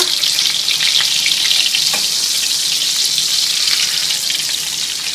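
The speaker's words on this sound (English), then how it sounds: "now let's fry it for another 5 or 6 minutes" Loud, dense sizzling and crackling of a breaded pork schnitzel frying in hot oil, a continuous close bubbling hiss with no voices.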